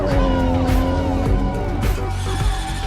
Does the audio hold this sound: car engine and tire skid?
yes